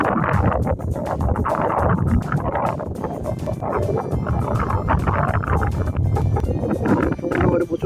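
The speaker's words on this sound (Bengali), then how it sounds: "সমুদ্র পাড়ে প্রচণ্ড হাওয়া এবং সমুদ্রের শব্দের জন্য কথাগুলো স্পষ্ট পাওয়া যাচ্ছে না।" Strong wind and breaking sea waves on the beach at Daman: a loud, continuous roar with gusty buffeting that never lets up, close to the microphone. Faint voices may sit underneath it.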